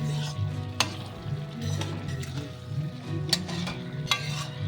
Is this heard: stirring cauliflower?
yes